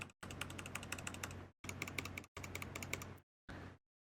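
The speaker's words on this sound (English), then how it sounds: "there's just this gray like textured gaming key on my keyboard, and it doesn't sound like the other keys." Rapid bursts of typing on a computer keyboard that includes one odd gray textured gaming key, crisp clustered keystrokes in four runs separated by short pauses, close and alone.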